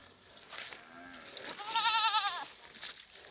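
A goat bleats nearby, one faint cry followed by a louder, wavering bleat, against quiet outdoor background.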